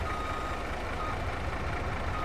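A truck backing up in Farming Simulator gives out its reversing alarm, a steady electronic beeping heard close and continuous over a low engine rumble, with nobody speaking.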